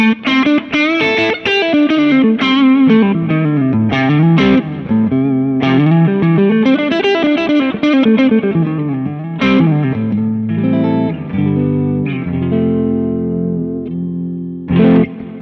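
Electric guitar through a humbucker pickup and digital modeler riffs with a gritty, distorted tone, busy chords and single-note runs played continuously and loudly, ending on sustained ringing chords.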